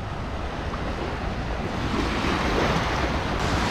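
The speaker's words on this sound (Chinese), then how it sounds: "我就喜欢这个海浪的声音，特别治愈" Ocean waves wash onto a beach at low tide during a seashore foraging outing, a broad, steady roar of surf with wind noise across the microphone, swelling slightly louder toward the end.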